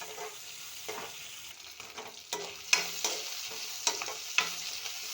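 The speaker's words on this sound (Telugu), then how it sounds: "కొంచెం కరివేపాకు వేసి వీటిని కూడా మంచిగా మిక్స్ చేసి వీటిని వేగనివ్వాలి." Ginger, onion, green chili and curry leaves fry with dried shrimp in a pan, a soft, close sizzle broken by sharp spatula scrapes and taps as the mixture is stirred.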